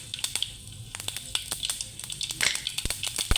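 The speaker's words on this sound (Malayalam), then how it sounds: "കടുക് പൊട്ടി." Mustard and fenugreek seeds crackling in hot oil: rapid, irregular sharp pops and ticks, close and fairly quiet, with a faint sizzle underneath.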